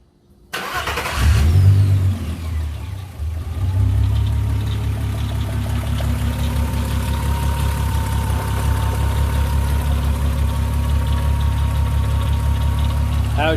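A 2002 Volkswagen Golf VR6 with the 2.8L engine cranks and catches after a short silence, then settles into a steady, loud, close idle that runs evenly to the end.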